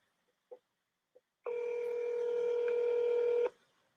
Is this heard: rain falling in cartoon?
no